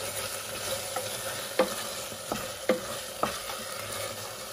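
Beans frying in a hot pan give off a steady, close sizzle after water goes in, with a few sharp clinks of a utensil against the pan rising above the hiss.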